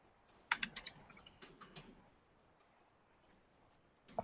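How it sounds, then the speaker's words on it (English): Quick bursts of clicking keystrokes on a computer keyboard in a meeting room, a flurry of taps up front, then sparser light clicks trailing off before a final couple of keys, fairly close and quiet. "we just type comments"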